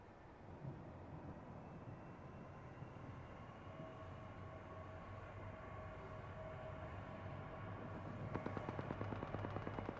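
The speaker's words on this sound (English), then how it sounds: "The train has started moving." A continuous low rumble of a train rolling along in the video game Apex Legends, steady and fairly loud, with a faint tonal whine and rapid rattling clatter building near the end.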